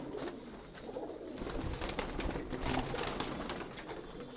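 Pigeons coo on a high rooftop in Prayagraj, soft repeated low calls under a faint background of clatter and wing flutter, with no voices.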